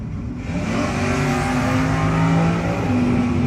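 A 1970 Buick Skylark and a Nova launching at a no-box drag race: loud, sustained engine roar with rising revving tones, heard at close range without talk.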